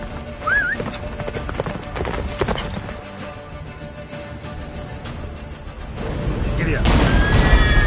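A horse gallops in The Witcher 3 with rhythmic clip-clop hoofbeats under a rider's voice, a short whinny early on, and a louder rumble of distant booms building toward the end.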